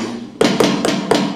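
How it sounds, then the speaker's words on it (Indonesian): Four punchy tom-tom sample strikes from a roll-up electronic drum kit, close and loud, struck in a quick, fairly even rhythm with short thudding decays and no talking. "Ini tom-tomnya."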